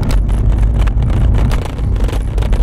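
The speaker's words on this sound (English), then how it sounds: "Now comes the street with the most cobblestone." A vehicle rumbles steadily over a cobblestone street, with a loud low-frequency drone and bumpy, jittering texture throughout, plus some wind buffeting.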